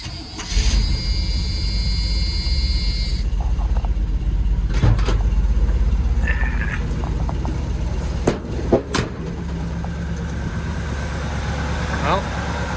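Squarebody pickup truck engine cranks and catches, then idles with a steady low rumble close by, with occasional clanks and a person speaking briefly over it.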